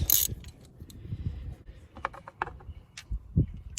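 Power steering hose connections on a Honda pump are popped loose, producing scattered close clicks, clunks and small metallic snaps at irregular intervals in a quiet garage.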